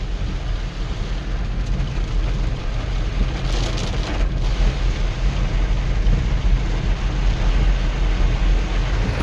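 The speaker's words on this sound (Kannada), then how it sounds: "ಹಂಗೆ ಮಳೆ ಇಲ್ಲಿ ಯಪ್ಪ." Heavy rain pours down in a steady, dense roar that stays loud and unbroken throughout, with no voices.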